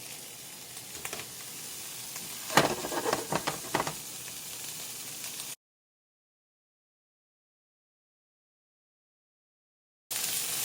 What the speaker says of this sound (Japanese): フライパンが温まりましたら、この中にふきを入れます